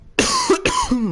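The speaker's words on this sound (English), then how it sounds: "I couldn't because I kept coughing" Two harsh, loud coughing bursts close up, one after the other, from a man during a WWE 2K22 gaming session.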